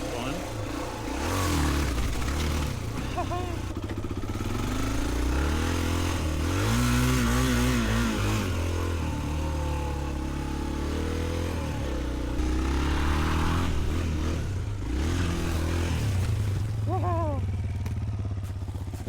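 An XR400 motorcycle ridden along a trail toward an abandoned fire lookout, its engine revving and dropping steadily close by as the rider shifts and climbs, loud and continuous throughout.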